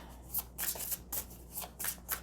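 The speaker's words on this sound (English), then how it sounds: "I'm just going to shuffle them all out." Tarot cards shuffled by hand, close and fairly quiet, with about six quick riffling bursts in a steady rhythm and short pauses between them.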